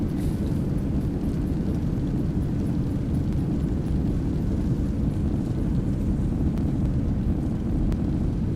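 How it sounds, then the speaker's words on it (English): A Boeing 737-800 in X-Plane 12 with thrust reversers deployed on landing roll, a steady heavy low engine roar that stays loud and constant throughout, no talking. "Reversers are out."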